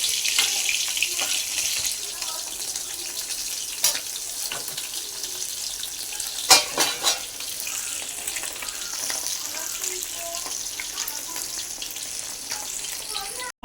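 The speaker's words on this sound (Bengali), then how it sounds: "এদিকে মাছ ভাজা হচ্ছে।" Fish frying in a pan gives off a steady, close sizzling hiss that runs throughout, with a few brief clatters from the kitchen standing out around the middle.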